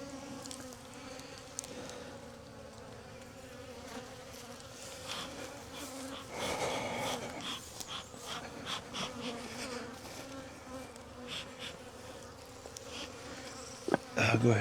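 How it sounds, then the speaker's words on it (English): Honey bees buzz around an open beehive in a steady, close droning swarm, with individual bees passing louder near the end; no one speaks. "These bees produce a bunch of propolis, which is fine with me."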